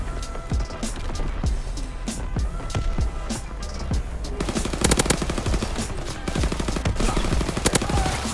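Rapid M-38 submachine gun bursts in Call of Duty WW2 multiplayer gameplay, sharp repeated shots in quick strings along with footsteps and game effects, the firing growing denser toward the end.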